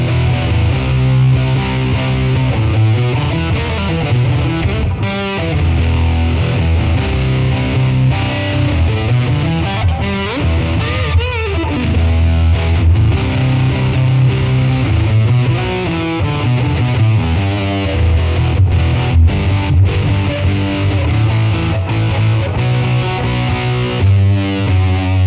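Electric guitar played through a cloned Mesa Triple Rectifier amp profile on a Headrush unit, heavily distorted, with loud sustained chugging riffs and chords running continuously and without pause, no voices.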